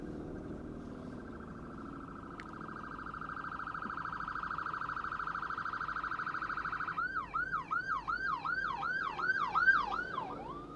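An emergency siren first holds a steady tone, then switches to a rapid repeating wail. It grows louder and nearer and is heard alone with no voices.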